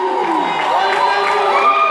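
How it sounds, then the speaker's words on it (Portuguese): Spectators at a regional goalball match boo and shout, a dense mixed crowd roar of voices rising and wavering throughout, loud and close, with no single clear speaker. "A torcida aí vaiando."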